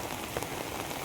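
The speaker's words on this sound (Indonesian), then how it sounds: "saat ini hujan masih deras ya, sekali lagi ini hujan masih deras ya" Heavy rain pours down at Kali Gendong in Cibitung, a steady, dense hiss of drops drumming on surfaces with no voices.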